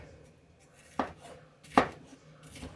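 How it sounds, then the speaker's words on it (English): Two sharp knife chops cut through a pot roast on a board, close and distinct, about a second apart, in a quiet kitchen with no talking. "We're just going to cut this"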